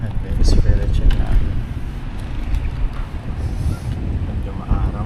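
Wind buffets the microphone on a sunny, breezy day, a continuous low rumble with gusts, while a person talks over it.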